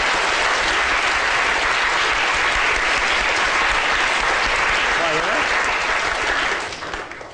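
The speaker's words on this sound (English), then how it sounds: "Round of applause." Loud, sustained applause from a lecture audience, steady clapping that fills the whole stretch before fading slightly at the end.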